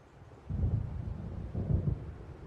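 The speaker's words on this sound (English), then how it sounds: "It seems there's a storm coming." Low thunder rumbles from an approaching storm in Alan Wake, two rolling swells of deep noise over a quiet windy background, fairly distant.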